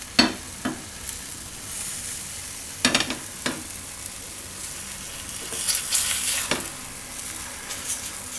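Oil sizzling and frying in a pan while cooking keri na pudla, a steady close crackle with occasional louder bursts as the batter is stirred and spread, with no talking.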